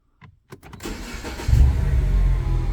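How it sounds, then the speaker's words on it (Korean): A BMW Mini is started with its push button: a few soft clicks, then the engine cranks and catches, settling into a steady, fairly loud idle rumble up close. "이제 브레이크 밟고 이제 스타트 버튼"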